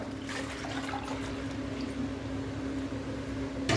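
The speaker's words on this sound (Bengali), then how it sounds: "এর মধ্যে এখন আমি জল দিব" Water poured into a pot of fried aloo matar soybean pulao: a steady, continuous gushing hiss with faint sizzling, held evenly at moderate level throughout.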